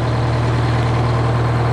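A GM 4-71 Jimmy two-stroke diesel runs steadily on a Frick sawmill, a loud, constant low drone with an even, buzzing idle and no other sounds over it.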